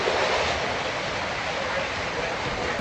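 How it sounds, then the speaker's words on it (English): Flooding Libby Creek in Libby, Montana overflowing at night, a loud, steady broadband rush of water that stays constant throughout with no breaks. "Libby Creek is overflowing."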